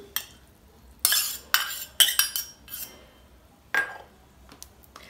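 Utensil scraping and clinking against a bowl while chicken pâté filling with finely chopped onion, olives, corn and grated carrot is stirred, a handful of sharp close taps over a quiet background.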